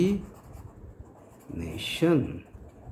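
A hand writes a formula with short scratchy strokes of pen or marker, close and moderately loud, under someone speaking.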